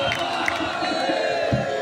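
Holi event audience in Varanasi clapping and cheering, a loud steady mass of applause and shouting voices sustained throughout, with a few sharper claps standing out.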